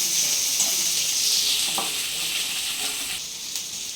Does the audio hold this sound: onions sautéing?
yes